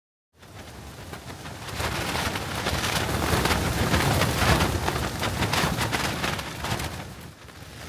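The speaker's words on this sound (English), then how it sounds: "This is some storm. I'm staying in here because I don't want the tent to blow away." A heavy rainstorm beats steadily on a tent, a dense, constant roar of rain and gusting wind close around, with no voices.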